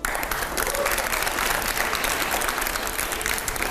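A television studio audience claps hard and loud, a dense and steady wash of applause that fills the whole stretch without a break.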